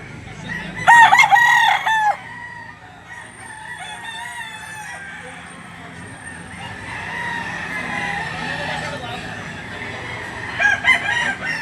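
A young gamecock stag crows loudly and close at a livestock auction market in Lipa, Batangas, one full cock-a-doodle-doo early on, then a quieter murmur of clucks and bird calls, with another short crow at the end.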